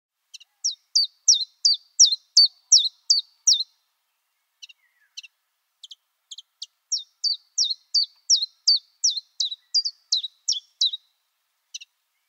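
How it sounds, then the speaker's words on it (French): A common chiffchaff sings alone, repeating high, sharp two-note chiff-chaff phrases in a steady, even rhythm, with one short pause before the song resumes, clear and close in a quiet park or garden. "un oiseau très très mignon, c'est le pouillot véloce"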